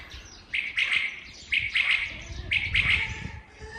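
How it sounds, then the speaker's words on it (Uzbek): A yard aviary of quails, canaries and other birds rings with bright chirping and trilling song, arriving in bursts about once a second, close and clear with no talking. "Bu yerda to'g'lar, bu yerda qushlar, bu yerda bedanalar, bu yerda kanariylar sayrab tursa."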